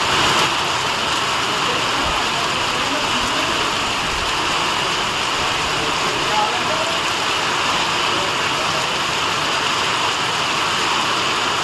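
A heavy downpour during a storm roars as a steady, dense hiss of rain on surfaces, constant and loud throughout, with no distinct thunderclap standing out.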